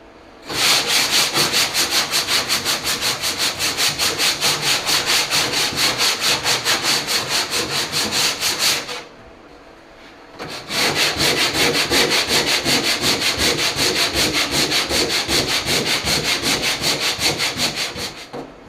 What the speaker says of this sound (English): While that works, I'm going to sand in the trunk.